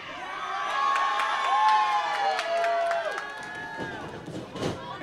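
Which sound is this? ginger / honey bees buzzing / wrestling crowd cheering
wrestling crowd cheering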